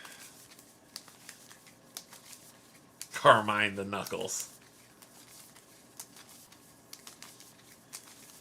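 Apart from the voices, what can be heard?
shuffling playing cards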